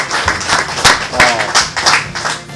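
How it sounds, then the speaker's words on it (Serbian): An audience at a television show applauds loudly and continuously in dense, close clapping, with a voice faintly under it. "Aplauz za nju"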